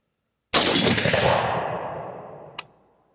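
A single sharp, loud rifle shot from an AR10 chambered in .22-250 rings out outdoors and decays over about two seconds, followed by a brief metallic clink.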